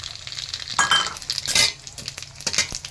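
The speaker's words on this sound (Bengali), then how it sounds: "শুকনো লঙ্কাটা হালকা ভাজা হলে এবার আমি জিরা দিয়ে দিলাম, এলাচ দিয়ে দিলাম" Dried red chillies, cumin and cardamom sizzle in hot oil in a pan, with bursts of crackling and a few clinks and scrapes of a spoon stirring the spices.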